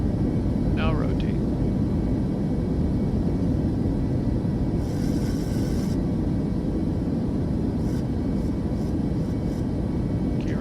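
Boeing 737 airliner taking off in Microsoft Flight Simulator 2024, a steady broadband engine roar holding constant throughout, with faint higher tones and brief clicks layered over it.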